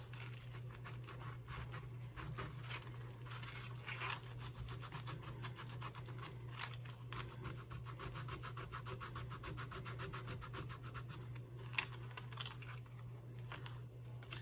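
Rough 80 or 60 grit sandpaper rubs quickly back and forth along a wooden gaff for a boat, a steady close rasping scrape over a constant low hum, with no talking.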